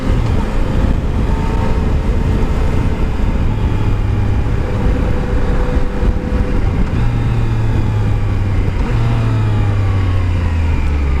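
A Yamaha Tracer 900GT motorcycle accelerates hard in third gear, its engine a loud continuous drone that climbs in pitch under heavy wind rush.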